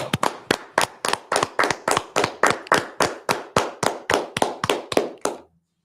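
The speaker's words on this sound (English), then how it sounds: "Let's clap it up. Let's clap it up." Clapping at the end of a class, about eighteen sharp, close claps in an even, brisk rhythm of roughly three per second, with no talk over them, stopping abruptly into silence.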